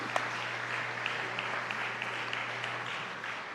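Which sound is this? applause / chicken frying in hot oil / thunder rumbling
applause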